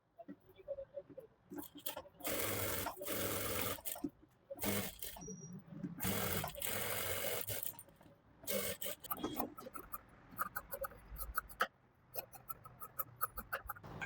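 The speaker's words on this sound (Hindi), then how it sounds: "इस पट्टी को हम फैब्रिक पे स्टिच कर लेंगे।" A sewing machine stitches a 2.5-inch strip onto blouse fabric in short bursts separated by pauses, fairly close and quiet, with someone speaking in between.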